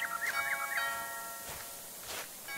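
A doorbell chimes inside the PlayStation VR horror game Stifled, a bright melodic ding-dong ringing out at moderate volume over a faint steady background hum, with no voices.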